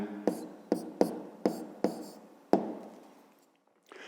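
Pen or chalk strokes mark letters on a geometry figure: six sharp taps with short scratchy tails, spaced roughly half a second apart, then quiet.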